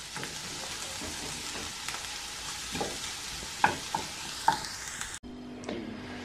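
Carrots and onions fry in a pan with a steady close sizzle, while a utensil stirs and taps several times before the sound cuts off abruptly near the end.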